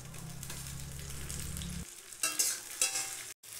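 Green chili and chopped tomato go into onions fried with whole cumin for a mutton curry. A low hum gives way to a bright sizzle with several sharp stirring bursts and one brief break near the end.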